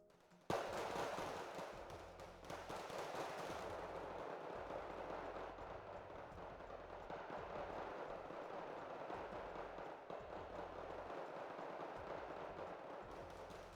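Infantry skirmish gunfire in the strategy video game Wargame Red Dragon, a continuous dense crackle of small-arms shots and distant pops that runs steadily throughout at moderate level.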